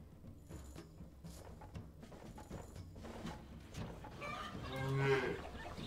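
Cattle in the video game Stronghold HD low faintly among soft background noise, then one louder, drawn-out moo rises near the end.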